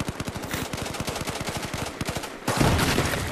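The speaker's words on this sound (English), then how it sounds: "He's fucking shooting at us!" Gunfire in the video game Battlefield 4 during a multiplayer Rush match: rapid automatic bursts rattle continuously, then a louder, denser blast of fire surges at the end, with no talking over it.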